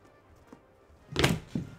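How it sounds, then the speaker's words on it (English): A solid thunk of a phone dropped on a hard surface, followed by a smaller bounce a moment later, close by in a quiet room. "Sorry about that noise, just dropped my phone."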